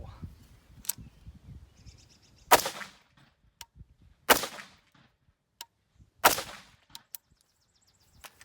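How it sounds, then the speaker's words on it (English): Three loud, sharp rifle reports from 55 grain full metal jacket target practice ammo fired outdoors at a car door, evenly spaced with quiet gaps, faint clicks and birdsong between. "55 grain, full metal jacket, just target practice ammo. And we're gonna fire"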